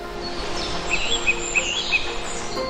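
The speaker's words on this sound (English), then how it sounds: "listening to the sound of birds chirping" Birds chirping in short, high tweets, several calls spaced across the clip over a steady low background hum.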